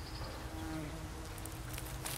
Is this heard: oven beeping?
no